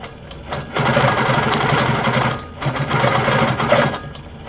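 A Handi Quilter Amara longarm quilting machine stitches steadily, its rapid mechanical whir running in two long bursts with a brief slowdown between them, close and fairly loud with no voices.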